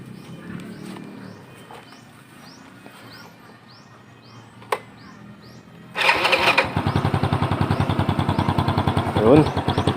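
A motorcycle fitted with an open kalkal (chicken) exhaust pipe made from plain tubing fires up after a quiet stretch, then idles loud and close with a rapid, throbbing, popping exhaust beat.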